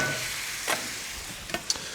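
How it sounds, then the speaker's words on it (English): Curry vegetables sizzle softly in a pan over high heat, a faint steady hiss with a few quick scraping stirs. "Let's just give that a little stir. Like I say, nice high heat,"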